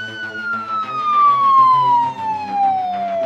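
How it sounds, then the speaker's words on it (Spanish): A fire engine siren wails in one long steady tone that slowly falls in pitch, loud and close, with no talk over it. "¡Vamos, camión de bomberos, vamos!"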